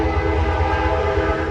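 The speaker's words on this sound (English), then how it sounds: "You hear that train?" A train horn blares loud and sustained over the rumble of rolling rail cars, one continuous honk filling the whole moment.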